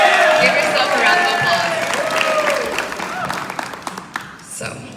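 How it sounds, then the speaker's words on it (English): Graduating class applauding and cheering at a senior awards night, a dense crowd of clapping filling the hall loudly at first, then thinning and fading into scattered claps. "Give yourself a round"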